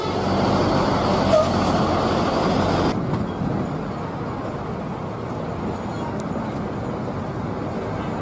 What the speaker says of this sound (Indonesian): Ada truk.